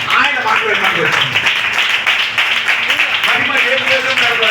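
A congregation at a thanksgiving gathering claps loudly in a dense, continuous burst of applause that holds steady for several seconds.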